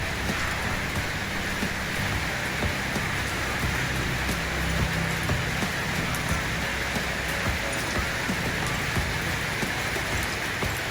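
Steady rainfall, a loud, unbroken hiss of drops on surfaces close by, continuing evenly for the whole stretch, with no clear children's voices or splashing standing out above it.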